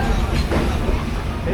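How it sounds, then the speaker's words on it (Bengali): Mahananda local passenger train running between Kotchandpur and Darshana in Bangladesh, a loud, continuous rumble of wheels and carriage noise heard from on board, steady throughout. "তো আমাদের ট্রেন এখন কোটচাঁদপুর থেকে দর্শনার উদ্দেশ্যে রওনা হয়েছে।"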